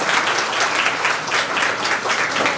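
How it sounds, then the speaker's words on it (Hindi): Steady, dense audience applause at an IAS academy award ceremony in India, loud and continuous throughout without pause. "भाई साहब तालियां"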